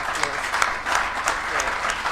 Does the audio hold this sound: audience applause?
yes